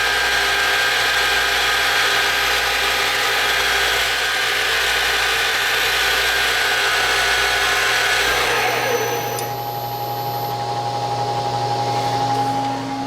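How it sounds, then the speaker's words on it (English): A PM727M milling machine spindle whirring steadily at speed, then winding down rapidly under dynamic braking to a near stop in about a second, leaving a low residual hum; close and loud, no speech. "That was dynamic braking kicking in there, and it shuts it down in about 1 second."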